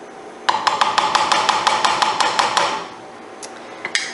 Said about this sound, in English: Let's give them a stir.